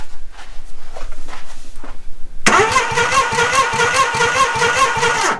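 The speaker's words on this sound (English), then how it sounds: "the engine is turning" A 1987 Suzuki Samurai engine is cranked by the starter. Faint clicks and quiet rustling come first, then a loud, rapid, rhythmic chugging of the engine turning over continues steadily to the end.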